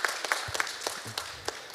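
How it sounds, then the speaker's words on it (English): Audience clapping at an international symposium on the idea of Europe, a loose scattering of hand claps in an uneven rhythm, moderately close and fairly light. "You can applaud Viktoras separately for this great job he did."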